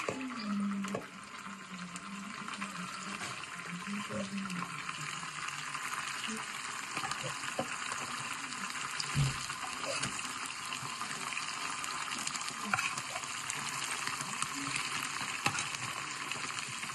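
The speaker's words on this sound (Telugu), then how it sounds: "చికెన్, ఇప్పుడు ఇందులోకి వేసి డీప్ ఫ్రై చేసుకోవాలి" Chicken pieces seasoned with salt and turmeric deep frying in hot oil, a continuous soft bubbling sizzle held at low level throughout, with a faint knock near the middle.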